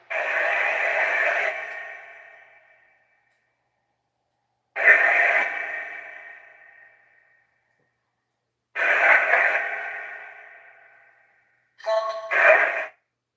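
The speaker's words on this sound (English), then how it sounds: "the random noise is a piece of equipment I'm trying to use for ghost hunting" Four separate bursts of harsh radio static from a ghost-hunting device sweep in and fade away, with long pauses between them and a shorter, choppier burst at the end.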